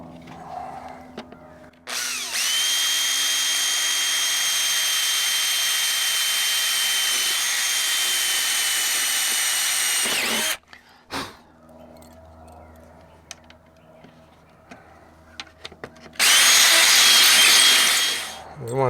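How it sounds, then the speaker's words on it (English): A power drill bores rivet holes in a Freightliner FLD truck's steps, two loud sustained whining runs, one long of about eight seconds and a shorter later one, with quieter handling noises between. "then we'll drill some holes"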